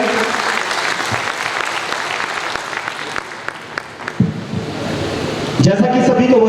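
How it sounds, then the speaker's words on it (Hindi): Audience applause welcoming guests on stage at a community organisation meeting in Dantewada, a sustained wash of clapping from a large crowd, followed near the end by someone speaking over a loudspeaker as the clapping continues. "एक बार मंच में आसीन हुए सभी लोगों के लिए जोरदार तालियों से स्वागत और अभिनंदन करें।"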